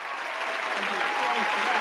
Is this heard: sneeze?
no